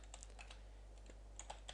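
Quiet keystrokes on a computer keyboard while entering HTML code, a few scattered soft clicks over a steady low electrical hum.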